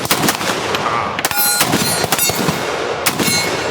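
Repeated gunshots at a shooting range booth during a Palmetto State Armory event, several sharp cracks spaced irregularly, loud and near, over busy outdoor noise.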